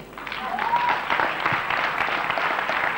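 Audience applauding festival prize winners at the Mamaia Festival 2003 in Romania, a steady, dense wash of clapping that holds for the whole stretch without pause, with faint voices mixed in.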